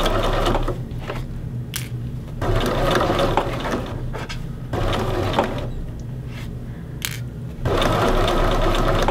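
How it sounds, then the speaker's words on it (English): A sewing machine runs steadily across a men's shirt yoke with pinned pleats, its motor whirring loudly in several long bursts with brief pauses between, close and alone with no talk. "then the needle will stay down so that it doesn't move while I'm sewing"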